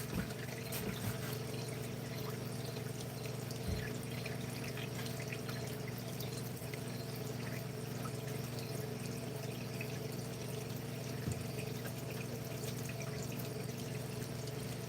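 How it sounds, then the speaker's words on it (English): Water running steadily from a tap while a bucket is rinsed, a continuous close pouring rush with faint drips and a low pump hum underneath, no voices. "I'm going to rinse the bucket. And we'll let it run for a minute."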